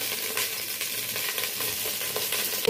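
Mustard seeds, curry leaves and a dried chilli sizzle and crackle in two spoons of hot oil for tempering, a steady close crackling hiss with small pops and no talk.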